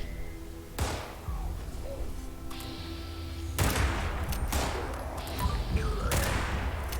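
Gunfire crackles in Fallout 76, with several sharp bursts and volleys spread over a low game background, fairly quiet overall with no one talking.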